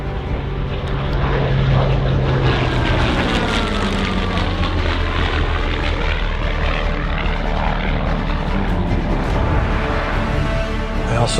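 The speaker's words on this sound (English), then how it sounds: "the roar of that Merlin engine" A Spitfire's Merlin engine roars loud and steady for the whole stretch, a deep, continuous propeller drone with a slowly shifting pitch as the aircraft flies close overhead.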